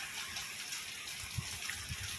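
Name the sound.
rainwater flowing after rain in Jazan, Saudi Arabia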